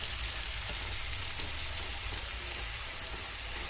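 Crispy homemade potato french fries sizzle steadily in hot oil while being stirred, a dense, continuous close-up crackle with no voices.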